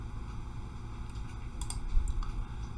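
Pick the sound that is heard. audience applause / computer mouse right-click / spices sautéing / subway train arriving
computer mouse right-click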